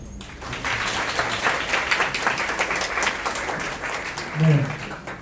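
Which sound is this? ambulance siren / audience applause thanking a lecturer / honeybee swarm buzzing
audience applause thanking a lecturer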